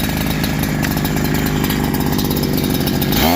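A Holzfforma G372 XP chainsaw fitted with a Walbro HD12 carburetor runs loud and close at high, steady revs, a continuous buzzing roar that drops off sharply at the very end.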